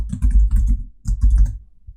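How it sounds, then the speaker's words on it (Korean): Close, crisp clicking of keys on a computer keyboard comes in two quick bursts of rapid taps, separated by a brief pause, with no voices. "타이핑을 할게요."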